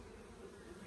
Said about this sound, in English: Get these into the nurse bee colony